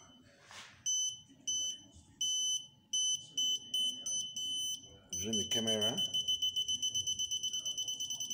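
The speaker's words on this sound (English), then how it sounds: "the farther we go away from it, the beep becomes slower" Electronic obstacle-sensor beeps from a walking stick sound in spaced bursts, then repeat in a faster, steady series while a person speaks partway through; the beeps slow as the distance from the obstacle grows.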